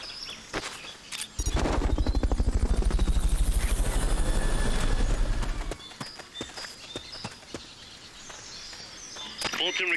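A Fulton recovery helicopter in MGS Peace Walker thunders in with a loud, steady rotor drone for several seconds, then cuts away to quieter game sounds and a few sharp effects.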